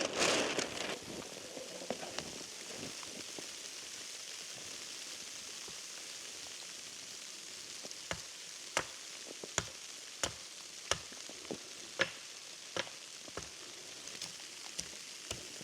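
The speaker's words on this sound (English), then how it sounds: "Snowy, rainy, wintry mix." Rain and sleet falling in a wintry mix at a winter campsite, a faint steady patter with scattered sharp drips and ticks striking close by.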